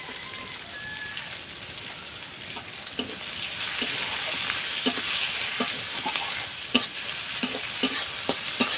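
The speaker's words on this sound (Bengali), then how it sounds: "পেঁয়াজটা হালকা লাল করে ভেজে নেব।" Chopped onions frying in a pan while being stirred, a steady sizzle with scraping strokes from the spoon, fairly quiet with no talk.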